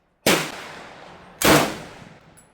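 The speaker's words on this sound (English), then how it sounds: "Hang fire. Hang fire." Two loud, sharp M1 Garand rifle shots about a second apart, each a sudden broadband crack that rings out into a long decaying tail, fired during a hang-fire and failure-to-fire test after a clip ejector spring replacement.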